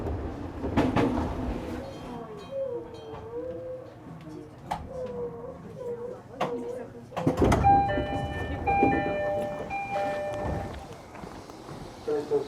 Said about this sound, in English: We took a local train to Shimoyoshida Station